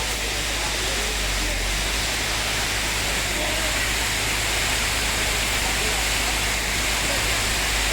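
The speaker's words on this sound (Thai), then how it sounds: "ฝนถล่มมาเรียบร้อยเลยครับ" Heavy rain pours down in Surin, Thailand, a steady, dense roar with a low rumble underneath, constant and loud throughout, no voices.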